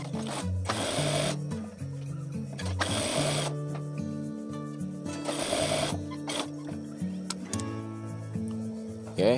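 A sewing machine stitches a lined batik pouch in several loud bursts of whirring, stopping briefly between runs and starting again, with no talking.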